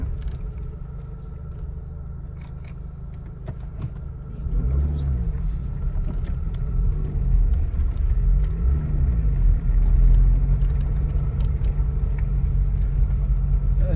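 A car drives along a muddy village road, its engine rumbling low and growing louder as it strains and revs, with people talking inside the vehicle.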